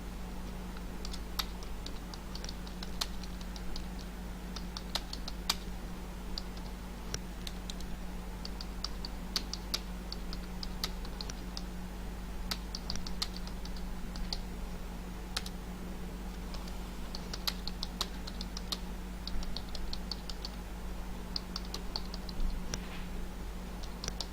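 Someone types on a computer keyboard, quick bursts of light key clicks with short pauses between them, close and quiet over a steady low electrical hum.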